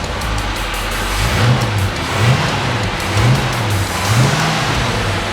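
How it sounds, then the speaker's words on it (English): A car engine fires up after its engine mounts were replaced, then revs in about four rising, rhythmic pulses over a steady, close idle. "make sure it's in park, and start it up. See if it starts."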